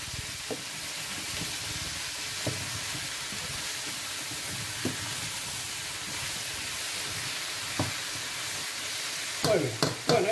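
Vegetables for a squash and zucchini purée sizzle steadily in a pan, with a few soft scraping stirs of a utensil breaking through the hiss and a brief clatter near the end.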